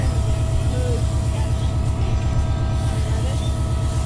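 A diesel train hauled by locomotive 3025 departs for Kurigram in winter in Bangladesh, a loud, steady engine rumble with a regular low throb running throughout.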